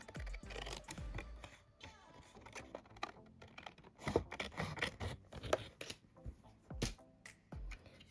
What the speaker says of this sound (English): I'm going to have to just cut a little bit of the photo paper away